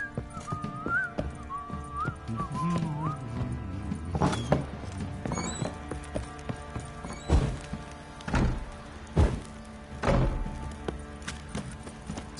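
Horse sounds in the game The Witcher 3: a whistle-like whinny early on, then several heavy hoof thunks and clip-clops spaced irregularly over a low ambient bed.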